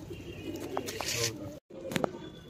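Pigeons coo softly in a loft after being bathed, a few low, gentle calls close by, with people talking over them.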